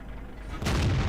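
A tank cannon fires in World of Tanks, with an M6 heavy tank taking a big shot during an El Halluf battle. A single loud, close boom hits abruptly partway through and leaves a dense, rumbling blast tail over quieter low engine rumble.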